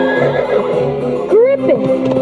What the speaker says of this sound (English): Stroke the horse to make it gallop.